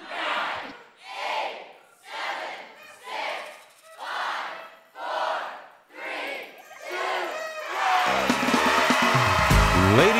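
A library audience at a summer reading magic show shouts in a rhythmic chant of about eight swelling crowd calls, then breaks into loud sustained cheering and noise at the end.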